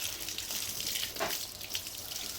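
Running tap water splashes steadily over freshly cut jackfruit pieces being rinsed to wash off the sticky sap, a continuous close hiss with a brief swell midway and no voices.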